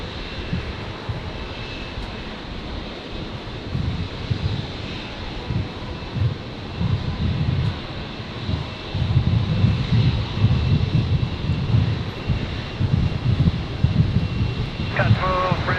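Embraer E-Jet airliner departing Brisbane airport, a steady broad jet engine roar building in loudness from a distance, with wind noise buffeting the microphone throughout.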